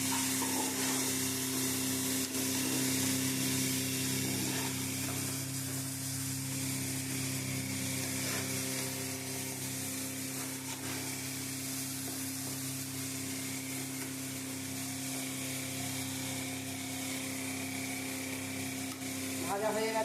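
Masala spice paste frying in oil for katla fish curry, a continuous soft sizzle and crackle under a steady background hum, with occasional faint stirring.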